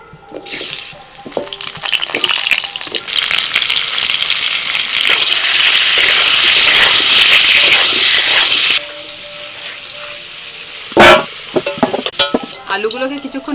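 Potatoes fry in hot mustard oil in a wok, a loud, steady close-up sizzle for about nine seconds that then drops to a quieter bubbling, with a brief clatter near the end.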